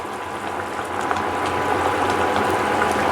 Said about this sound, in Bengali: ঝোলটা 5 মিনিট ফোটানো হয়ে গেছে।